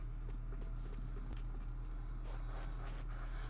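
Footsteps crunch on snow across a winter island in a video game, a soft, regular run of steps over a steady background hum.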